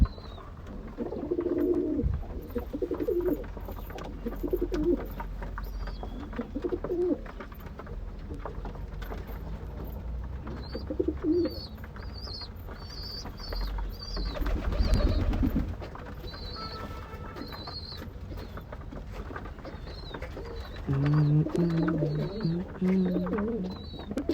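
Soft pigeon cooing repeats on and off among clicks and rustling, with a few brief higher chirps and a low background hum.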